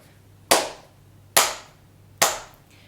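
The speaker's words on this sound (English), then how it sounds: "I will clap the quarter note beats with my hands" Three sharp, evenly spaced hand claps mark quarter-note beats during a beginner piano lesson, each crisp and close with a short decay in a quiet room.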